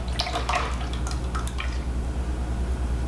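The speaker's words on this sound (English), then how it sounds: "we're gonna go ahead and pour it into our bowl" Egg mixture for cheesy scrambled eggs poured into a bowl, a close liquid splashing and dripping that is busiest in the first second and a half, then thins to a quiet trickle over a low steady hum.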